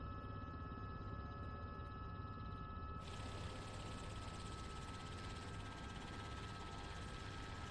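Simulated helicopter in Microsoft Flight Simulator 2024 in VR, a steady low rotor and engine drone that turns brighter and fuller partway through, continuous with no speech.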